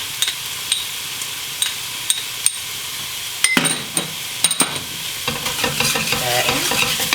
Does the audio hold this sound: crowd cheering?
no